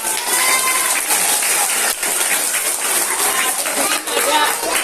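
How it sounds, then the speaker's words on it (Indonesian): A crowd applauds with steady, dense clapping that holds for several seconds, with faint voices mixed into the noise. "Tepuk tangan untuk Mas Anam"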